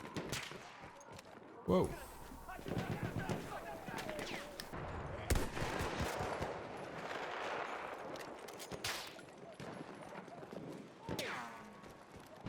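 Pistol gunfire in Battlefield 1 combat, several sharp shots fired in an irregular burst amid dense battle noise and distant gunfire, with a voice exclaiming over it.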